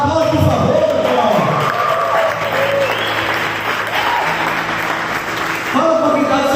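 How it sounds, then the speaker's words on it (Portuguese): A church congregation claps loudly and continuously, with cheering and shouted voices rising over the dense applause, which dips slightly midway and swells again at the end. "Aplaude, por favor, meu irmão"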